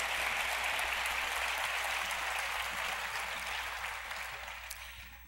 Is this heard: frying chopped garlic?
no